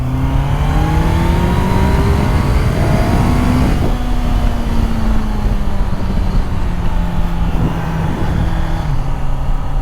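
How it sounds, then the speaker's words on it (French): A Honda CBR650R E-Clutch motorcycle accelerating, its engine loud and close, rising in pitch through a gear, dropping at the shift near the middle, then pulling steadily again. "Donc là on va se décaler un peu et on va accélérer."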